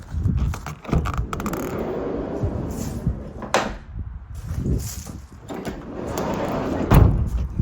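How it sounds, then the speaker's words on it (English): Side loading door on a Peugeot Boxer 2.2 BlueHDi L3 H2 van sliding, a series of rumbling rolls, clunks and a sharp latch thud, close and loud, ending in a final heavy knock. "Side loading door."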